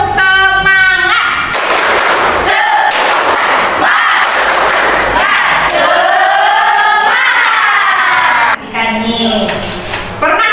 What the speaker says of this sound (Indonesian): Sekarang coba tepuk semangat dulu. Coba tepuk semangat.